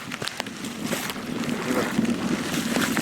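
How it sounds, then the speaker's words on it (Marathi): Floodwater after heavy rain rushing across farm fields in a village, a steady broad roar of moving water with wind buffeting the microphone, no voices. "शेती संपूर्ण पावसाने बघा भरली आहे अगदी म्हणजे नदी कशी वाहते तसं पाणी आलं आहे"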